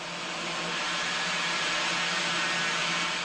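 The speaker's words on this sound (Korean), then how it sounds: "드디어 엔진에 불이 붙고 불꽃이 터져나왔다." KSR-III liquid-propellant rocket engine firing in a combustion test, a loud continuous broadband roar holding steady throughout without a break.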